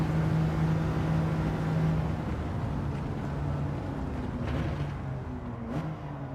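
Steady engine drone from a naturally aspirated 3-liter inline six in a GT7 racing game, holding a sustained harmonic tone with slight pitch shifts and a rising note near the end, moderately loud and continuous.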